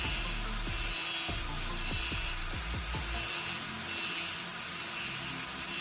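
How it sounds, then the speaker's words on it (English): Grinder with a spinning sanding disc sharpening a metal drill bit in a jig, a steady motor whine with several short rasping grinding strokes as the bit is pressed against the disc, no talking. "I turn on the grinder and gently press the drill bit against the spinning sanding disc"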